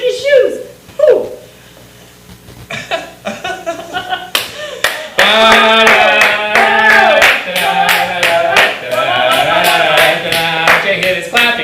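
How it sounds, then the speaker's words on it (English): Hands clap in quick bursts of sharp, close slaps during an improv comedy performance, starting sparsely and then becoming a dense flurry over music, with people talking throughout. "is clapping now"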